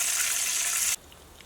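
Butter and bacon sizzle in a pan inside a heated arctic tent in winter: a steady, close hiss of frying that cuts off sharply after about a second, leaving quiet.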